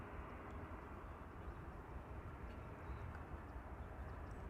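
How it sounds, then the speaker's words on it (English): A Lufthansa Airbus A380 passes overhead as a steady, broad jet roar that fills the whole stretch without letting up. "Lufthansa A380 overhead."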